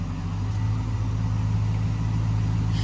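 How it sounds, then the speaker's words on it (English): A Roadkill CrewCab Chevelle engine runs in reverse with a close, steady, low rumbling drone at an even level throughout, with no clear rise and fall. "Rev it a few times"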